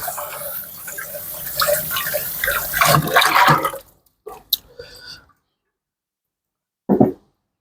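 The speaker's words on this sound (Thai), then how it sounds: "ผมล้างคกก่อน" Stone mortar rinsed under running water, a few seconds of splashing and scrubbing followed by scattered drips and knocks, then a final short splash after a pause; a voice may be faintly present.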